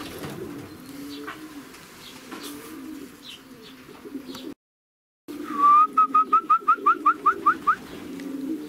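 Racing pigeons coo steadily at the loft after a 427 km race from Grudziadz, a low murmuring chorus broken by a short gap, followed by a quick rhythmic run of about a dozen bright whistled notes.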